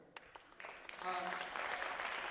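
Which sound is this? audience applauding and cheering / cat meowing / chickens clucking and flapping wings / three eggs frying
audience applauding and cheering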